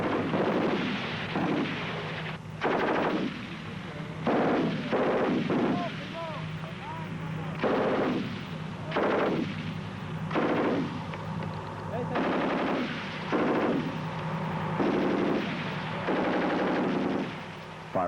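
An FN Minimi light machine gun, the Canadian Forces C9, fires repeated loud bursts of rapid automatic shots with short pauses between them, each burst cracking sharply close by.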